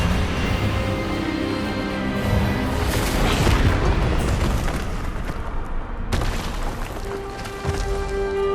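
A spell cast during a wand duel in Hogwarts Legacy, heard as loud, booming magical blasts and crackling bursts in a dense, continuous battle soundscape, with a sharp hit near the end.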